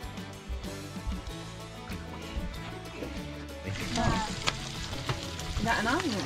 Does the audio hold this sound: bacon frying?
yes